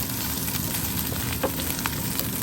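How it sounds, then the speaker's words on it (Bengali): Shrimp and hilsa fish sizzle steadily in a hot pan while being stirred and fried for a taro-leaf mash, a dense continuous crackle with no talking. "এখন ভালো করে নেড়ে চেড়ে ভেজে নিচ্ছি"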